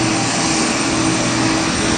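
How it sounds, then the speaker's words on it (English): A steady, loud broadband roar of an airplane engine running at an airport gate, even and unbroken for the whole moment with no talk. "can you hear the plane?"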